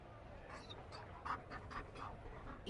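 A Mabari war dog in the video game Dragon Age: Inquisition pants in quick, soft, rhythmic breaths at low volume under faint background ambience.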